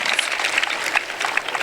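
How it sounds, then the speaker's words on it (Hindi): An audience at a Pakistani gospel festival claps vigorously, a dense, continuous patter of hands that stays steady and fairly loud with no voices over it. "जोरदार तालियां यीशु के लिए बजाइएगा"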